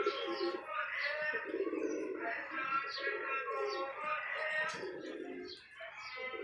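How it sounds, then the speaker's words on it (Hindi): Several pigeons coo in repeated soft, throaty phrases with some chirping mixed in, close by and continuous, while someone talks faintly in the background. "ये कबूतर है आपके सामने, ये देख लें।"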